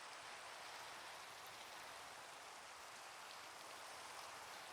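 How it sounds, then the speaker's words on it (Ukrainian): Steady rainfall in the Minecraft video game, a dense, even hiss of falling drops that holds unbroken throughout, fairly faint and with no voices over it. "Дощ почався, це погано."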